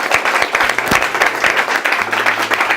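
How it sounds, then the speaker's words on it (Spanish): Audience applause at a book launch event, dense and steady clapping from a crowd filling the room, loud and close throughout with faint voices mixed in. "Un aplauso a Vicente."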